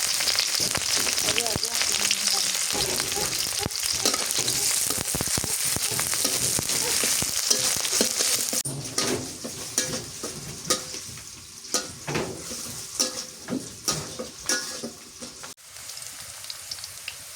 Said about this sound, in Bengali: তেল দিয়ে দিছি, পেঁয়াজ কুচি দিয়ে দিই, কাঁচামরিচ খালি